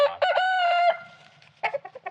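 A rooster crows loudly nearby, a long drawn-out call, followed by a few short clucks from chickens.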